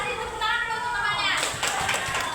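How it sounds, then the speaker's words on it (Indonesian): A classroom of children claps hands briefly in a short burst that follows a teacher's speech, with voices heard before and during the clapping. "Kasih tepuk tangan dulu untuk temannya."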